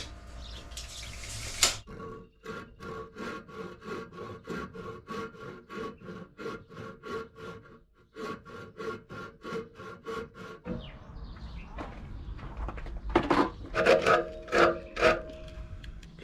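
A hardwood post is sawn by hand aboard an abandoned sailboat under restoration, with rhythmic back-and-forth rasping strokes, close and steady, a short pause midway, then quicker uneven strokes near the end.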